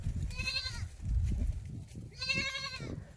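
Rajanpuri goats at a livestock pen give two loud, wavering bleats about two seconds apart, close by, with a low rustling and shuffling background between calls.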